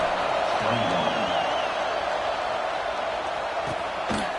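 Stadium crowd at a college football game makes a broad, steady roar with faint whoops and scattered cheers, mixed under an announcer's voice.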